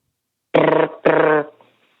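A human voice imitates a telephone ringing, giving two short buzzy trilled rings in quick succession, close and fairly loud, then silence.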